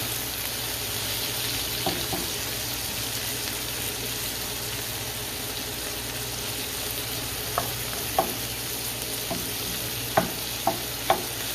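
Shrimp fry in a pan for an Asian-style garlic and honey dish, giving a steady, fairly loud sizzle with a few sharp clinks of a utensil stirring near the end.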